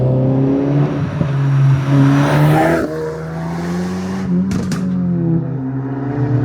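A Stage 3 tuned Audi S1 hatchback's loud, raspy exhaust roars as the engine revs up and shifts, with a sharp crackle and pop between gears, close and dominant throughout.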